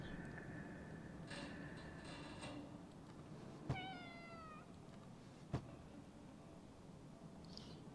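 A cat in the horror game Conarium meows once, a clear rising call heard alone over a low steady ambient hum.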